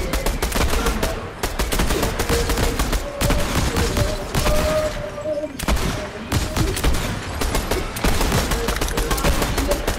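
Rapid Fortnite gunfire, sustained bursts of shots and explosive weapon blasts crackling loud and close throughout, with brief pauses between volleys and no clear talking.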